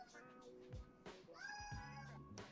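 A cat named Darcy meows several times in long drawn-out calls, close to the microphone indoors, with a person talking softly in between.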